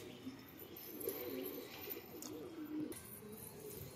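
Soft, repeated cooing of pigeons close by, low and throaty, with faint background hiss and no talking.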